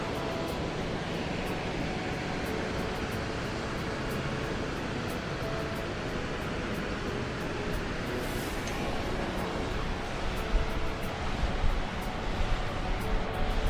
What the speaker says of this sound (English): Look at the waterfall right here.